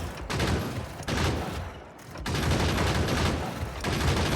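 Automated gun turret firing at bugs in the factory-building game Factorio, a dense continuous stream of rapid shots with a short lull partway through before the fire resumes.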